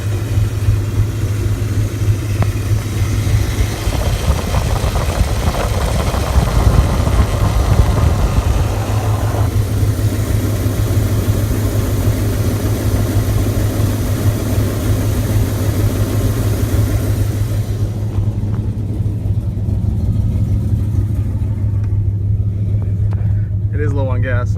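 A 1998 Dodge Ram with the 5.9L Magnum V8, a truck that blows heavy smoke on the gas, idles steadily with a deep, continuous low rumble, close and loud, the drone fading slightly near the end.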